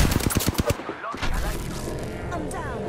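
Rapid gunfire in the video game Apex Legends, with a quick burst of loud close shots followed by a dense, rumbling wash of combat noise.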